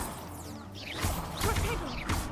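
Spells cast in a Harry Potter video game, a few short whooshing bursts and thuds over a steady background, with voices shouting over the effects.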